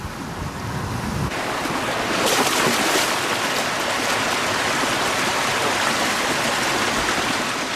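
A fast-moving freshwater stream rushes steadily and loudly, a dense, unbroken wash of water close by, with some wind buffeting the microphone.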